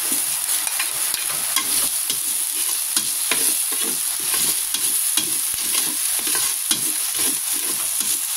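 Chopped onion sizzles and crackles in hot cooking oil, a steady close frying hiss with irregular pops and occasional stirring scrapes throughout, no voices.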